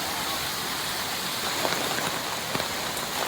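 Heavy rain pours steadily in Panayur, Vaniyamkulam, Palakkad, during a downpour linked to a suspected landslide, a dense even hiss with a few faint drips standing out and no voices.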